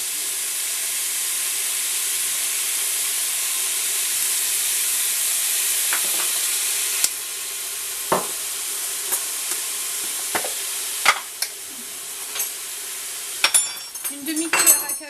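Sauce with English sauce and sugar sizzles in a hot pan as a bright, continuous hiss, while a utensil stirs it in scattered scrapes and clinks that grow busier toward the end.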